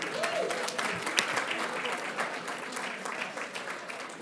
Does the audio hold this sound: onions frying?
no